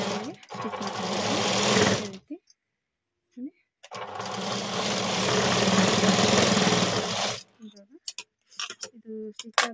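Sewing machine stitching a square-neck blouse runs in two sustained bursts of rapid, steady needle chatter, with short pauses and light handling clicks between them.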